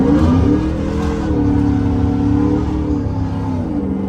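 A supercharged 2010 Chevrolet Silverado truck revs hard, its deep exhaust droning loud and close, rising, holding steady, then easing off, with no talk over it.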